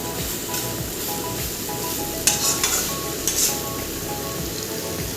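Chicken pieces frying in a pan with ginger, garlic, onion and coriander leaves sizzle steadily while being stirred, with a couple of sharper scraping clatters of the spoon partway through.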